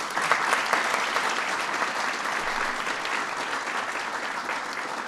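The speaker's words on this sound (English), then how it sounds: "Please give them a big round of applause." A large audience applauds steadily at a White House Ramadan iftar reception, dense sustained clapping filling the room at even loudness with no voices over it.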